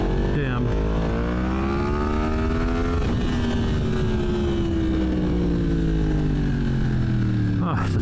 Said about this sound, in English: Oh, such a lovely bike.